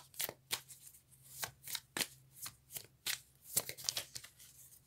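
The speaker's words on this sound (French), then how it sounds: "On prend une dernière carte." Playing cards handled and drawn from a deck, a rapid series of crisp close-up card snaps and flicks with soft rustling between them, no voices.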